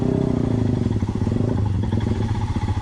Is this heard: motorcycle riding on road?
yes